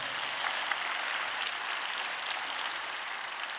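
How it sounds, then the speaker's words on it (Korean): Church congregation at a summer worship gathering clapping together, a dense even wash of applause held steadily throughout without pauses. "우리 박수 한번 쳐주시길 바랍니다"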